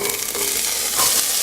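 Olive oil sizzles steadily in a scorching hot soup pot, a loud, continuous frying hiss with no break.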